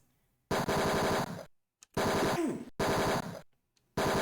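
Bursts of rapid gunfire from the 1989 Tex Murphy: Mean Streets video game, three or four loud close rattling volleys of about a second each, separated by silent gaps.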